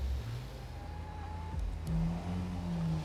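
A Porsche engine in the video game NTE: Neverness to Everness hums at a low, steady idle, then swells into a rev with a rising tone, close and continuous with no voices.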